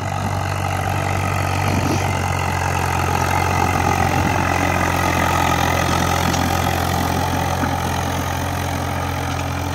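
Swaraj 855 FE tractor engine running steadily at 1500 RPM in low top gear, pulling a 16-disc harrow, a loud, constant low drone with no voices.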